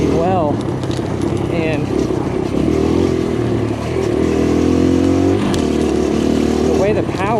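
A 2023 Kawasaki KLX140RF liquid-cooled four-stroke dirt bike ridden on trails, its engine revving and held on the throttle with rising and falling pitch and some clatter, under someone talking close by.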